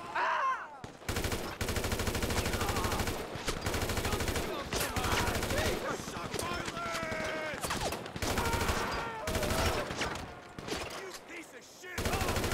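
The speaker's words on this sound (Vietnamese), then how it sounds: "Pháo phòng không các bạn ơi" Rapid anti-aircraft gunfire in the GTA 5 video game, with dense, continuous bursts running almost the whole time and a few brief pauses, loud and close. Voices talk over parts of the shooting.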